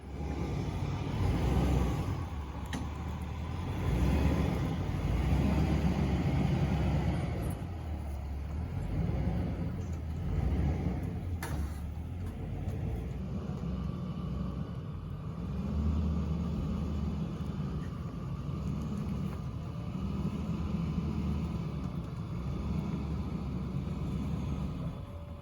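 A VW bus, hitched to a towbar, makes a test run around a yard. Its engine rumbles at moderate distance, rising and falling with the driving and occasional clunks, and no one speaks.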